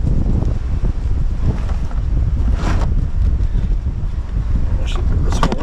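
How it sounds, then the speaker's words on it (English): Steady strong wind buffets the microphone with a constant low roar, gusting throughout with faint rustling in the background. "Oh man, that is pretty windy"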